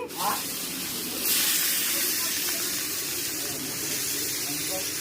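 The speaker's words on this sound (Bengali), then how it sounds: "এই যে জল গরম হয়ে গেছে আমি এখন এই জলটা পোলট্রি মাংসের মধ্যে দিচ্ছি" Hot water is poured over chicken meat in a pan, starting with a short splash and then swelling into a steady rushing hiss with some sizzling as it continues.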